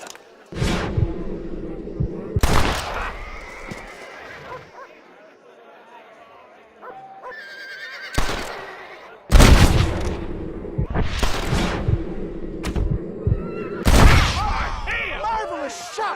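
Gunfire in Red Dead Redemption, a Western video game: several loud broadband shots and bursts spread across the scene, with spoken dialogue and game sound in between.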